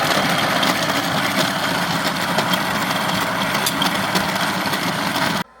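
An electric coffee grinder in an RV grinding coffee beans, a loud continuous motor whir that holds steady for several seconds before cutting off abruptly, with no speech.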